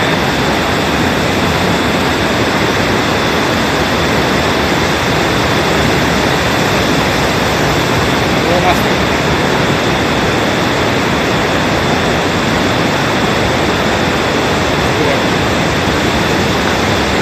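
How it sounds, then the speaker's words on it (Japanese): An underground waterfall roars inside Akiyoshi-do, a large limestone cave, as a dense, steady wash of loud rushing water that fills the space without letup for the whole stretch. "ここも滝みたいになってるね。"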